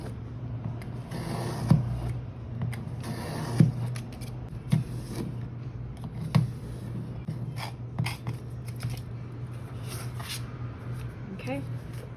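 Blade cuts through thick Tomoe River paper on a cutting mat, heard as soft scraping strokes with several sharp clicks, close and fairly quiet over a low steady hum.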